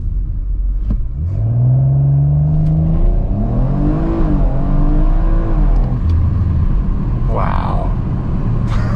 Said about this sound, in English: We'll do another quick launch